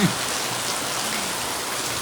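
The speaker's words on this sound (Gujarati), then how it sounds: "વરસાદે જુઓ હટી હટીને પડે રહ્યો" Rain falls steadily beside a cow shelter at a gaushala, a dense, even hiss of drops close around with no voices.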